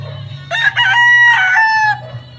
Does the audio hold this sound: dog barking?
no